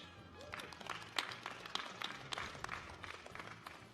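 Audience applause and scattered cheers at a university architecture school commencement ceremony, a steady wash of clapping with sharper individual claps and whoops standing out, moderately distant and fairly soft throughout.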